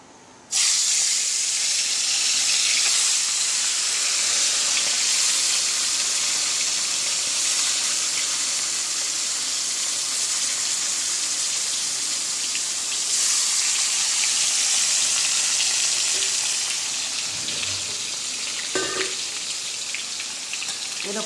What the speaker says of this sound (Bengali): তেলটা গরম হয়ে গেছে, এবার মাছটা দিয়ে দেবো।